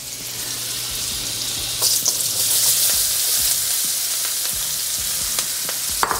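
Onion dropped into hot oil and salted butter while cooking tofu sisig, sizzling loudly with a steady bright crackle and occasional stirring scrapes.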